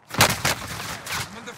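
Gunfire in the video game Warzone, a few loud broadband bursts near the start followed by fainter, scattered shots trailing off over a noisy battlefield background.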